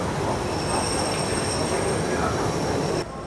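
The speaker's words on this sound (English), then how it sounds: "Let's hit the monorail." The Disneyland monorail rides along on a rainy day with a steady rumbling roar and a faint high whine from inside the car, ending abruptly after a few seconds.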